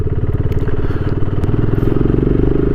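A BSA Goldstar 650 motorcycle engine pulls steadily while riding, a loud, continuous single-cylinder thump with rhythmic firing pulses and wind rush throughout.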